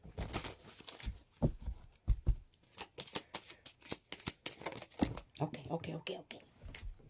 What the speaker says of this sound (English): Just shuffle again.